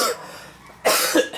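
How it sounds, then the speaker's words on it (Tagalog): A person coughs twice, close and loud: a brief harsh burst at the start, then a stronger cough with a second short bark after a quiet pause. "Inuubo na ako."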